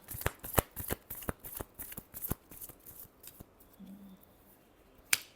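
Tarot cards are shuffled close up in a quick run of crisp riffling snaps, followed by a short quiet pause and then one final card slap.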